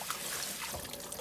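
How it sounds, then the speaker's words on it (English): Kale is rinsed under a running tap, a quiet steady splash of water over the leaves for a brief moment. "Of course, I'm gonna wash the kale."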